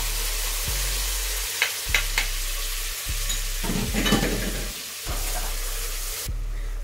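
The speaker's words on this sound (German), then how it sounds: "Jetzt werden wir unsere Zwiebeln anschwitzen." Onions sizzle in butter for a tomato sauce with a dense, steady hiss. Occasional scraping bursts come from stirring over a constant low hum, and no one talks.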